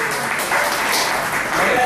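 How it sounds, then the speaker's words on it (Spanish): Applause from a congregation at a church service, a short burst of dense clapping at steady loudness with voices mixed in. "Den un aplauso fuerte a Jesús."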